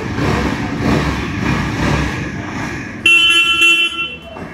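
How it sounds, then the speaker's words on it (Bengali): A Yezdi Adventure motorcycle horn sounds at a showroom launch event, a loud sustained toot cutting in over a steady running engine and crowd noise. "even the horn is very loud"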